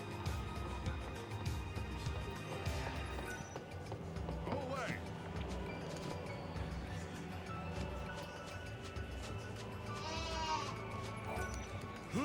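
Sheep bleating in the video game Final Fantasy XIII-2, the animals giving low cow-like calls amid game music and ambience, with a person talking over it.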